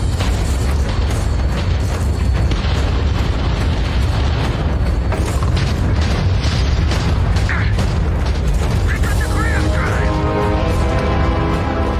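An enemy ship is destroyed in a space video game shown at an Xbox games showcase, with loud, dense rumbling booms and bursts of explosion that run without a break, then mechanical rattles and tones near the end.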